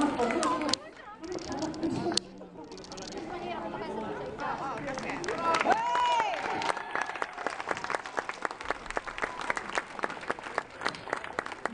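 A street crowd at an outdoor juggling and torch act bursts into applause, sharp individual claps rising into a dense, lively ovation with chatter and voices mixed underneath, close and fairly loud.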